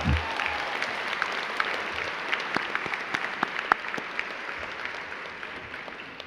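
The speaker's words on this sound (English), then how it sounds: "Let's give Bella one more round of applause" An audience applauds at a high school People's Choice Awards ceremony following a singer's performance, a sustained wash of clapping from a large crowd with a few sharper nearby claps standing out.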